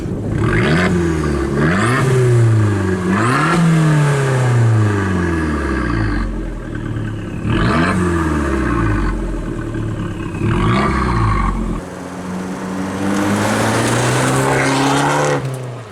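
An Abarth 500 Rivale engine revs repeatedly up and down in strong rising and falling sweeps, loud and close, with a steadier idle-like drone near the end.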